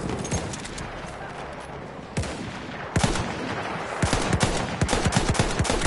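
Loud, continuous gunfire in the video game Battlefield 1, with bursts of automatic shots and sharp single cracks over a busy battlefield din.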